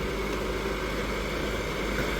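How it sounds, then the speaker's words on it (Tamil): Farmtrac 6065 tractor engine at medium RPM in third gear, pulling a heavy cultivator, a steady continuous low rumble with no breaks, close and fairly loud, with no talking. "இன்ஜின் சவுண்டு பாருங்கள்"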